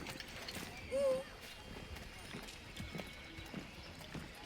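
A horse's hooves clip-clop at a gallop in Assassin's Creed III Remastered, steady repeated beats with a brief whinny early on, layered under game music and someone talking.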